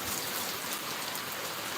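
Heavy rain pours in a steady, dense hiss over fields during a hot spell, loud and continuous with no talk or other sounds.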